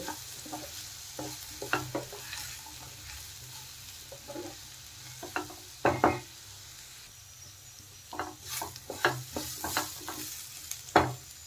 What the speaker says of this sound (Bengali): হলুদ গুঁড়ো দিয়ে দেওয়ার পরে আর একটু নেড়ে চেড়ে কিন্তু ভেজে নেব